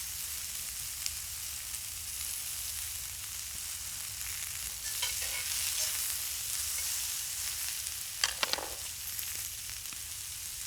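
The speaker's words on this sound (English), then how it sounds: "I'm going to put in some onions, some red peppers, some of the cactus, and I stuck some corn." Onions, red peppers, cactus and corn frying in a pan outdoors beside a creek, a steady close sizzle with a couple of brief scraping stirs.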